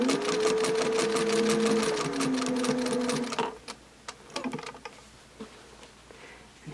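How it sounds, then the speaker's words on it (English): A sewing machine hums and clatters steadily while stitching binding onto a quilt near a corner, loud and close for about three seconds before stopping into light fabric handling. "There's nothing wrong with the machine stitched on binding."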